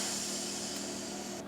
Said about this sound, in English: Hear all that steam coming out.